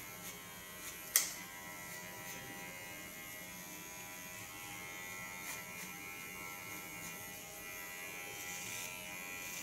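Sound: electric hair clipper cutting hair

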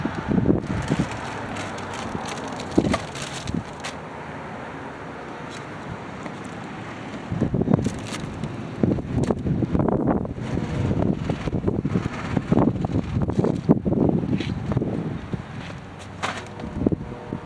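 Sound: cold wind blowing outdoors

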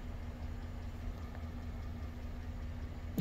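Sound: 5.3L LS diesel engine idling on diesel fuel

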